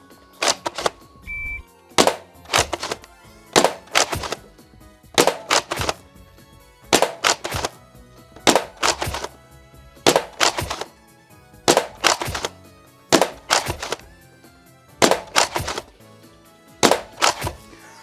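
Nerf Siren blaster firing bamboo darts on medium power into a target, a steady series of about fourteen sharp, loud impact thunks spaced roughly every second, with no talking.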